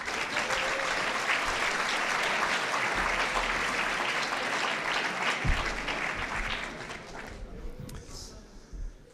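An audience at a student eloquence contest prize ceremony applauds continuously, dense clapping from a crowd that holds steady and then thins out toward the end.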